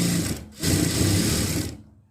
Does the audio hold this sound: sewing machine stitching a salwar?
yes